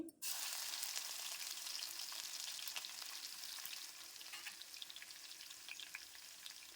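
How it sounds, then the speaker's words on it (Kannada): Mustard seeds and crushed garlic fry in hot oil, giving a loud, steady sizzle that runs on without a break, with faint crackles and pops from the seeds and no voices. "ಎಣ್ಣೆ ಕಾದಿದೆ ಸಾಸಿವೆ ಹಾಕ್ಕೊಳ್ತೇನೆ ಸಾಸಿವೆ ಸಿಡ್ದಾದ ನಂತರ ಇದಕ್ಕೆ ಒಂದು ಗಡ್ಡೆಯಷ್ಟು ಬೆಳ್ಳುಳ್ಳಿನ ಜಜ್ಜಿ ಹಾಕ್ಕೊಳ್ತೇನೆ"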